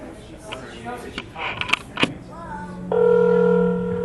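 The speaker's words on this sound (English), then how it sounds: "Two ringy dingies." Muffled voices and brief dialing tones lead into a loud, steady telephone ringback tone during a call placed from a convention's closing ceremonies.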